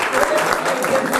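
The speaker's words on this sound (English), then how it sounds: "Please give a big round of applause to Miss Carol Murphy!" An audience claps enthusiastically for a woman stand-up comedian taking the stage at a theatre, a dense burst of close applause running under a brief cheer.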